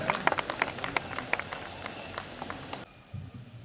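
An audience at a Hindi poetry stage event applauds to welcome a poet. Crisp, dense clapping continues for nearly three seconds, then cuts off abruptly into quiet room sound.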